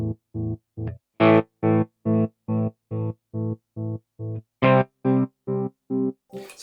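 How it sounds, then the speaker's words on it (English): Guitar played through an FX Maniac tremolo on its hard square-wave setting, a sustained tone chopped into sharp, evenly spaced on-off pulses, about fourteen bursts in a steady rhythm, loud and alone. "if I switch it to hard, it switches to a square wave, which basically gives me really sharp transitions between the on signal and the off signal"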